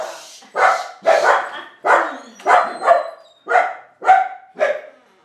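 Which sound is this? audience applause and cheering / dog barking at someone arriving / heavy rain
dog barking at someone arriving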